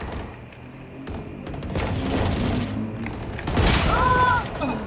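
Gunfire in the video game Valorant: several sharp bursts and thumping shots, loudest near the end, under a player's voice speaking in game.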